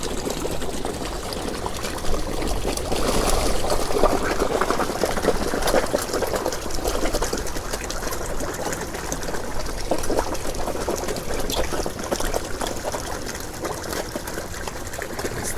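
Liquid poured into a backyard koi pond all at once, a steady splashing, trickling wash over a constant hum of pond equipment, continuing evenly with no voices.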